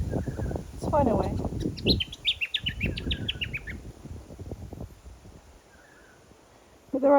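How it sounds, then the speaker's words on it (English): Bird song in bushland recovering after a fire: a clear series of rising, warbling notes, fairly close, first heard together with someone talking nearby and then heard alone, with faint calls in the background. "There's a lovely bird song from this bird here, and I'm hoping"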